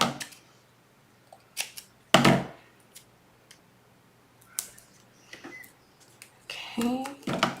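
Scissors snip foam tape into pieces for a mini album craft project, a series of short, sharp cuts spaced irregularly, close and fairly loud in a quiet room.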